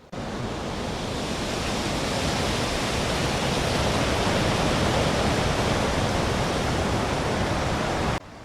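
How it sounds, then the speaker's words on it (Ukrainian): A steady, broad whooshing of wind blowing without a break, loud and even, building slightly before cutting off. "Так, це шум вітерця."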